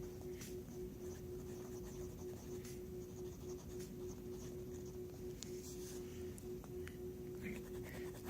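A Pilot Lucina fountain pen writes on paper with faint, scratchy strokes and small ticks over a steady low hum, quiet and close, without talk.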